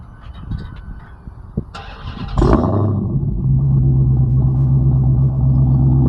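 A Dodge Hellcat V8 starts by remote, a sharp loud crank and flare settling into a deep, steady idle rumble close by, with no talking.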